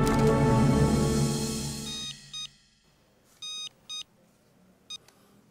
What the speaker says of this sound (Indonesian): SMS dari siapa, Pak?